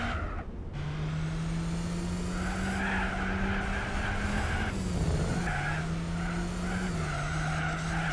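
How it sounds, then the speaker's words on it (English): Tyre squeal from a car cornering in Gran Turismo 4, a sustained tonal screech that bends in pitch over a steady engine drone, loud and continuous with brief breaks. "That tyre squeal you can hear is where the limits of the car's turning circle are being reached"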